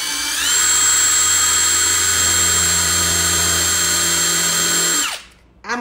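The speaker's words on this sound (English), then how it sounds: "I am specifically and purposely going to try to drill with it in reverse" Cordless power drill run in reverse while pressed into a workpiece in a garage, a steady high motor whine with a low hum beneath, loud and close for about five seconds before it winds down and stops.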